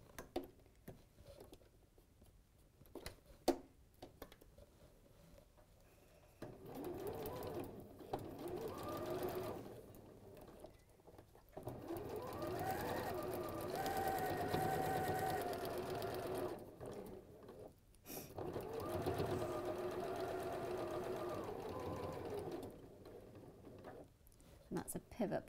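A sewing machine runs in steady stretches stitching along solid pattern lines, its motor whirring and needle chattering close by, stopping briefly between runs with small clicks and handling noises in the pauses.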